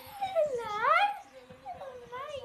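A dog whimpers and whines in rising, wavering cries close by, with short yips in between, while people murmur softly in the background.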